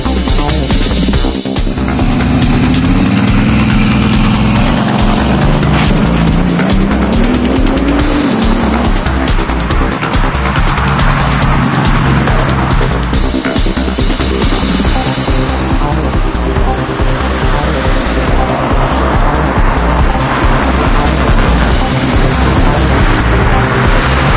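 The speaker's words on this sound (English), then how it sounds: "But if you really want to find out what the Veyron's all about, we're going to need to drive it." A Bugatti Veyron supercar driven hard on the road, its engine roaring loud and continuous with rising and falling revs through gear changes, up close and alone for the whole stretch.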